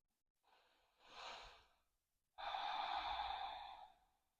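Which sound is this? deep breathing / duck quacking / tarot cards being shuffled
deep breathing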